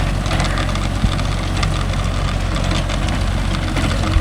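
A Mahindra Yuvo Tech Plus 585 4WD tractor engine runs steadily while driving a 42-blade rotavator through a field, a loud, constant low diesel drone with a faint knock and no talk.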